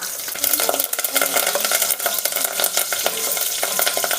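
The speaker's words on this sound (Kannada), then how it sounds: "ಬೆಳ್ಳುಳ್ಳಿ ಎಲ್ಲ ಸ್ವಲ್ಪ ಕಲರ್ ಚೇಂಜ್ ಆಗಬೇಕು, ಅಲ್ಲಿ ತನಕ ನಾವಿಲ್ಲಿ ಫ್ರೈ ಮಾಡ್ಕೊಳ್ಬೇಕಾಗುತ್ತೆ" Garlic, curry leaves and dried red chillies fry in hot oil in a pan, giving a steady, dense sizzle with scraping stirring strokes throughout, close and fairly loud, with no talking.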